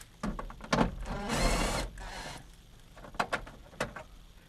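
A 10mm bolt being undone while removing a Toyota marker light, heard as close, quiet ratcheting clicks and a brief buzzing whir of a tool or rattle near the middle, then a few more sharp clicks, with no speech.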